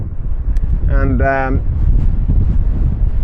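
Loud wind buffeting the microphone in low rumbling gusts during a cycling road race in the Atlas Mountains, at 4 degrees, with a short spoken word partway through.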